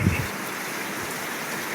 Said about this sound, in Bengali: বাইরে জানলা দিয়ে বৃষ্টিটা দেখেন কত জোরে জোরে।